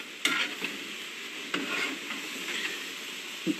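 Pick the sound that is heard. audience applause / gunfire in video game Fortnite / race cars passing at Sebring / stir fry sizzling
stir fry sizzling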